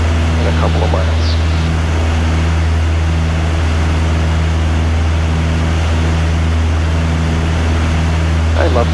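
A Piper Aztec cruising over the downtown Chicago lakeshore fills the cabin with a loud, unbroken engine drone and a deep, even propeller hum. A faint voice briefly breaks through near the start and end.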